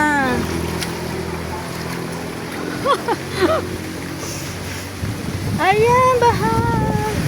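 Monsoon floodwater covers a street in Bacoor, with a steady wash of moving water and splashing close by, and a voice talks briefly over it.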